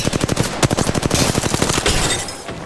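Rapid automatic gunfire in the video game Apex Legends, a loud close burst of evenly spaced shots, then a few scattered shots trailing off.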